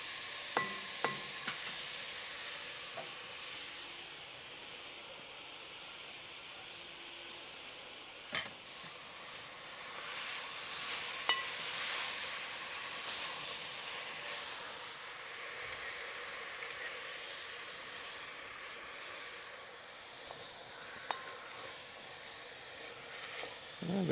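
Minced meat for bolognese sizzles steadily in a hot pan, browning hard, with occasional scraping and stirring clicks over a continuous frying hiss.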